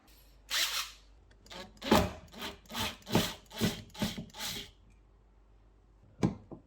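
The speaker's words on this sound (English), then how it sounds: "So I want to sand it and oil it again." An IKEA wooden table top being sanded by hand in rhythmic back-and-forth strokes, about eight close, rasping scrubs in a row, then a pause and one more stroke.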